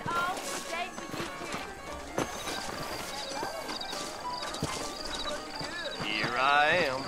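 Horse hooves clip-clop in Red Dead Redemption, set in a frontier town in New Austin, with a steady rhythm of footfalls under game music and a voice, and a brief whinny near the end.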